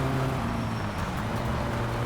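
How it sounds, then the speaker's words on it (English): A car engine in the video game My Summer Car drones loudly and steadily for about two seconds, a low continuous hum with no talk over it. "My engine's too loud."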